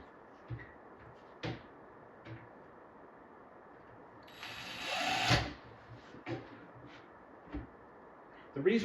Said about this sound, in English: So I'm just going to stick 2 screws in here temporarily.